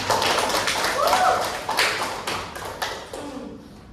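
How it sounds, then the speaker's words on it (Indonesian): A class of students claps together during a lesson on AI ethics, sharp scattered claps at first that gradually thin out and fade as a voice speaks briefly over them. "tepuk tangan untuk kita semua"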